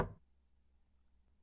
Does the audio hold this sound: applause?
no